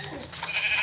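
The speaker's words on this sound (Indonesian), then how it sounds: "kita mengambil daging dari domba karena daging domba itu juga bisa menghasilkan makan" Sheep bleating in a survival video game, a short, moderately faint bleat over soft background game sound.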